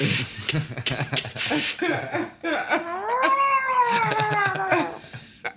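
A man imitates a cat with his voice, giving a drawn-out, rising and falling meow that follows a brief burst of talk-like sounds and stays loud and close for several seconds.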